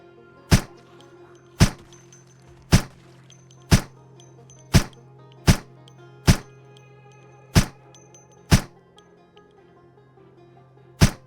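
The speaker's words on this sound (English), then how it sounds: "We have a silencer, but clearly these guys were attracted by the shots." Ten suppressed gunshots from a silenced weapon in the Project Zomboid zombie survival game, sharp muffled thumps spaced about a second apart over a low steady hum, with no talking.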